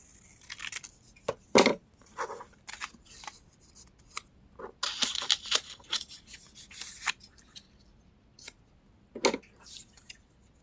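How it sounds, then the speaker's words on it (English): Scissors snip through paper in a run of crisp cuts made straight down for a junk journal or card craft. The cuts come close and irregular with short pauses, and there is no talking. "And I'm just going to cut this straight down."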